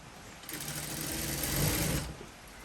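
A sewing machine stitches lining and fabric together for a blouse, a steady fast whirring run of about a second and a half that starts and stops cleanly in a quiet room.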